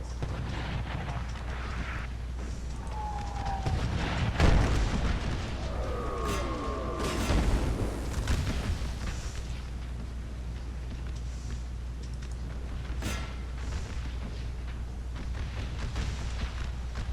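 Musket volleys from a battle line in a Little Round Top strategy game, rolling booms and crackling gunfire spread over several seconds above a constant rumbling background, with no talking.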